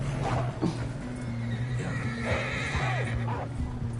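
A horse whinnies loudly several times in the video game Red Dead Redemption 2, over a steady game soundtrack hum, with a few hoof clops mixed in.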